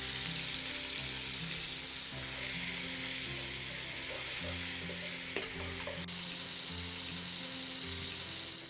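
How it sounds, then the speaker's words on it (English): Turkey with onion and garlic sautéing in a pan for a light ragu, a steady dense sizzle running throughout with occasional scraping stirs and a faint tick, close and continuous with no talk. "I just want the turkey to be lightly sauteed, not too much color. So the onion goes in now."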